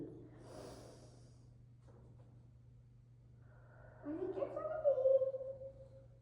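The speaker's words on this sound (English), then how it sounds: "Breathe deep." Slow, deep breathing during a yoga arm balance class, a soft, quiet exhale followed by a louder, fuller breath near the end over a steady low hum.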